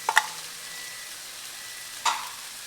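Pre-cooked corned beef is broken up and stirred in a hot pan for Filipino corned beef and rice, with two short scraping stirs over a soft, steady sizzle, close and otherwise quiet.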